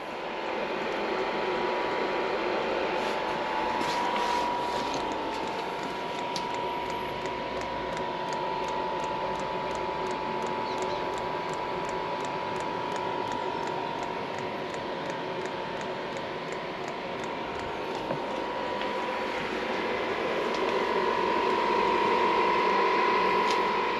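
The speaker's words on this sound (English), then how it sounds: "Now I can see that the pump is really struggling." A diesel heater's fuel pump struggles with an E8 error, giving a steady mechanical running noise with a rapid, regular ticking pulse and a faint whine throughout, fairly loud and without speech.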